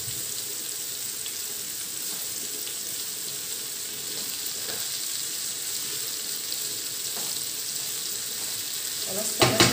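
Cauliflower soup vegetables sautéing in a pan give a steady, even sizzle that holds for the full length, with a few faint clinks near the end.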